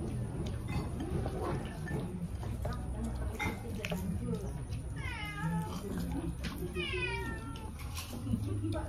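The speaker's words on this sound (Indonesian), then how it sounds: "kucing apa yang di situ?" A cat meows in a series of rising, wavering calls, the clearest two coming in the middle and near the end, heard over steady background noise in a home while people talk nearby.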